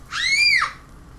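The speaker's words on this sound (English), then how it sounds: "Caleb is screaming again" Caleb lets out a single loud, high-pitched scream, rising and then falling, lasting about half a second, close and alone.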